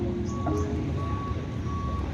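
A bus pulling out of a terminal sounds its reversing beeper, evenly spaced electronic beeps over a low idling diesel engine and ambient yard noise.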